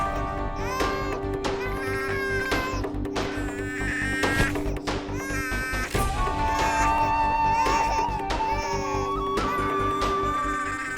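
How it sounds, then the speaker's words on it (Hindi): An infant cries hard and keeps going in a domestic TV drama scene, its wails loud and close over a busy mix of music and clattering sounds. "बहुत ज्यादा रो रहा है"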